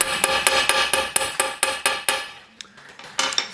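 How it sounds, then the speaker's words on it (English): Sharp metallic ball peen hammer blows dishing a small brass piece strike at a steady, brisk rhythm, ringing close up, then a short pause before a few more strikes. "using a ball peen hammer to get that dished shape into it"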